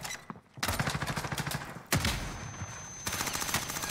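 Automatic gunfire in a Call of Duty firefight, loud rapid bursts with a heavy blast partway through and continuing rattling shots after it.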